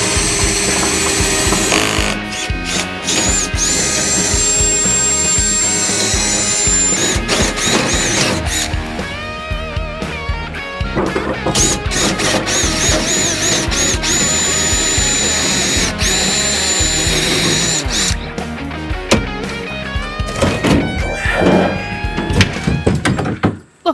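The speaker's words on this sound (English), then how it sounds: "we're going to have to drill out the old lock and get it replaced" A power drill drills out an old lock on a 1967 Buick Riviera, whining and grinding in long loud bursts, with metallic clunks and rattles between runs and pitch rising and falling as it bites.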